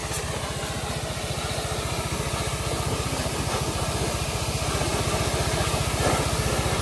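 An EasyRide 150FI motorcycle engine runs steadily close by, a continuous rapid putter that holds even and loud throughout with slight rises in level.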